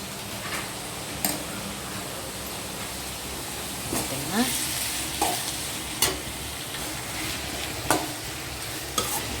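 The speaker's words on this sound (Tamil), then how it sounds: "தக்காளி கொதி வந்துடுச்சு" A tomato dish cooking in a pot gives a steady bubbling, sizzling hiss with scattered sharp ticks and clinks throughout, fairly close and continuous.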